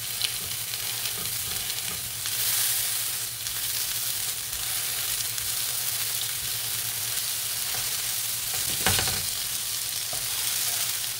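Burger patties pressed flat on a hot pan sizzle loudly and continuously, with occasional scraping and thuds of the spatula, one sharper knock near the end; no speech.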